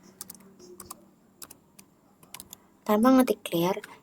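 A few sharp keystrokes on a computer keyboard typing Ctrl L in a command-line terminal, scattered clicks over a faint hum, followed by a person speaking.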